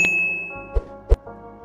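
A bright bell notification ding rings out at the start, followed by a couple of short clanking hits over a low hum.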